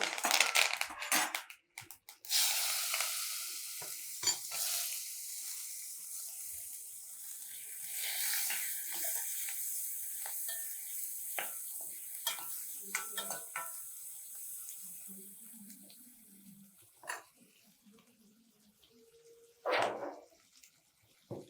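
Tomatoes cooking with turmeric and curry leaves in a pan for a South Indian meal, a soft hiss of frying with scattered clinks of a spoon stirring against metal, fairly quiet.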